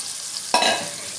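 Mutton pieces for biryani dropped into hot oil, giving one sudden burst of sizzling with a stir that fades quickly over a low steady hiss.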